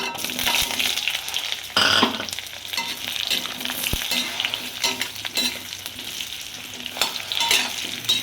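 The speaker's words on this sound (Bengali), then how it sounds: "দেখুন, আমি এই কড়ার মধ্যে আলুগুলোও ভেজে নেব" Potatoes frying in oil in a wok, a loud close sizzle with repeated scraping and stirring strokes and a few sharp clinks of the utensil, continuous throughout with no talk.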